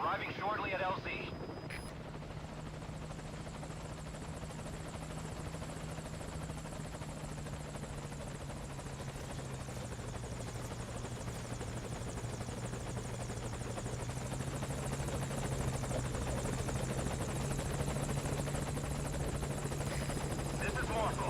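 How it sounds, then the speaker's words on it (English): A helicopter approaches a landing zone in Metal Gear Solid V: Ground Zeroes, its rotor making a steady, loud droning hum that holds for about twenty seconds. "This is Morpho, arriving shortly at LZ"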